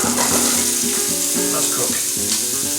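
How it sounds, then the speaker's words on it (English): Onions frying in a pan for chilli con carne, a loud continuous close sizzle with faint tonal music underneath. "we're going to stick the onions in the pan"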